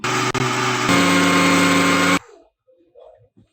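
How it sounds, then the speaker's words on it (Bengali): An electric blender grinds puffed rice into powder with a loud, steady whirring roar for about two seconds, then cuts off, leaving faint handling sounds. "এখন এটাকে আমি ব্লেন্ড করে নিচ্ছি।"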